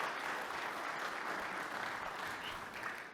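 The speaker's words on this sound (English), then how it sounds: "So round of applause to our training team. Round of applause to our sales leaders." Audience applause at a corporate live event for a mortgage lending team, a steady wash of many hands clapping together, fairly distant and soft, continuing evenly without talk.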